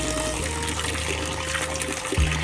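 Water runs steadily along a hiking trail between Boudha and Manichud in Nepal, giving a continuous close rushing wash with no break and a brief bump near the end.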